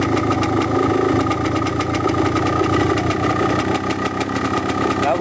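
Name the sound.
motorcycle engine idling, revs rising after air screw adjustment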